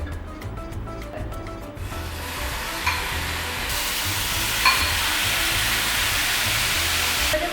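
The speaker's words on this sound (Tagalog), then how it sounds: "start na natin i-saute yung ating beef" Beef sautés in olive oil in a pan, a loud, steady sizzle close by that swells as the meat hits the hot oil, with occasional stirring scrapes.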